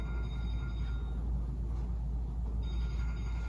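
A telephone rings in a steady, continuous pattern, moderately loud, with no talking.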